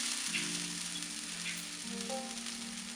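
Sliced onions frying in a pan as turmeric powder goes in: a quiet, steady sizzle with a faint humming tone underneath, no voices.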